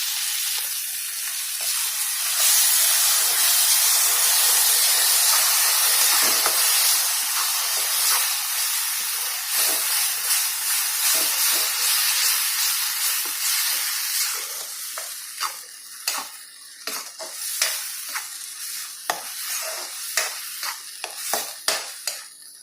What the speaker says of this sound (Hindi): टमाटर को डालने के बाद हम इस मसाले को थोड़ी देर पकने के लिए छोड़ेंगे